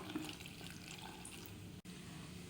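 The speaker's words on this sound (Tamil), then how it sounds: "பிச்சு வச்சுருக்க வடையில் லைட்டாக வெதுவெதுப்பான தண்ணியை சேர்த்துடலாம்." Steady splashing of warm water poured onto torn vadas in a bowl, continuous at low volume, with a brief dropout near the end.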